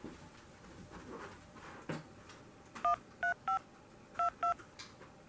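A phone keypad dials out a string of sharp DTMF beeps, six or so quick tones in two small bursts against a faint room hiss, close and clear, with a soft knock just before.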